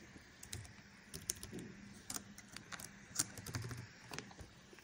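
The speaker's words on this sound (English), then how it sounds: "then you need to type your username" Quiet clicking of keys typed on a computer keyboard, irregular taps in small bursts with a few sharper strikes, close and alone.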